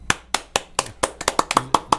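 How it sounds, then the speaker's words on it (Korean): Hands clap about eleven times in a loose, slightly uneven run, sharp and fairly close, with no voices between the claps, like a small group applauding a research firm's greeting. "이리온 리서치라고 하고 박수 치는 거예요"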